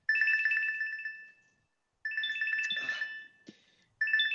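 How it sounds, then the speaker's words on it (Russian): A phone ringtone rings during a remote call, a loud melodic tone pattern repeating in three bursts separated by short silences, with faint background noise between them. "там у вас звонит"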